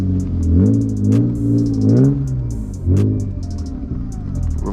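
A manual BMW E36 reverses from inside the cabin, its engine a low, loud rumble rising and falling with small throttle changes, while a high rhythmic chime repeats over the top.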